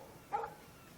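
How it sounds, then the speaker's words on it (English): A single short dog bark from the Life is Strange video game, fairly faint over a low background hum. "Stop that. Stop. No barking."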